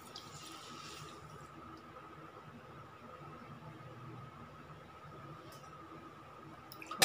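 Half a bowl of water is poured into a kadhai holding a bowl of sugar, giving a soft, steady trickling wash that is faint and close, with a louder clatter right at the end.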